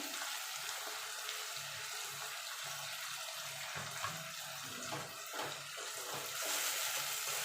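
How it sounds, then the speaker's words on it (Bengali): Water pours into a mixer grinder jar while a mutton and potato curry is being made, a continuous close splashing stream running steadily from start to end. "এবার মিক্সির জারটা দিয়ে একটু জল দিয়ে দেবো।"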